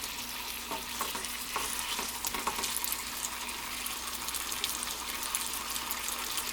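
Chicken pieces fry gently in a pan over a very low flame, a soft, steady crackling sizzle with a few faint ticks and pops, continuous and fairly quiet, with no talking.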